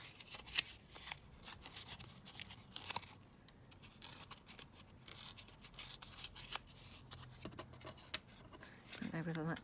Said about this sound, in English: So just going to tear this down.